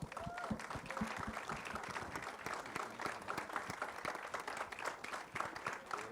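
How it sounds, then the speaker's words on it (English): An audience at the trailer launch of the film Srikanth claps continuously, a dense, even burst of applause heard alone for several seconds. "give them all a big round of applause, ladies and gentlemen"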